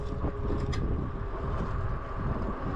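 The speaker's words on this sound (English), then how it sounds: "Slow back down because there's a lot of wind there and we got people coming." Steady broadband wind roar buffets the microphone while riding an Aventon Aventure.2 fat tire e-bike outdoors, a continuous dense rush with no voices.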